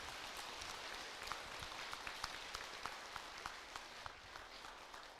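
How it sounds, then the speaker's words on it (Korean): An audience at a Buddhist dharma gathering claps in a soft, distant patter of scattered hand claps, a brief round of encouraging applause. "격려의 박수 한번 부탁드리겠습니다"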